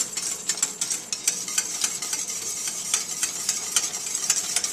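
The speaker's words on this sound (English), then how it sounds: "Make sure to whisk vigorously to avoid any clumps." A whisk beats an egg-enriched custard mixture for Layali Lubnan, the Lebanese semolina dessert, rapidly and steadily in a bowl, producing a close, continuous scraping and tapping rhythm with no talking.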